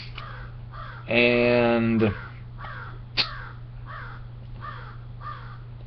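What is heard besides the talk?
crows cawing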